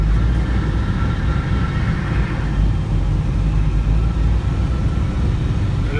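An old truck engine putters and rumbles steadily up close, a continuous low, loud drone with no voices over it.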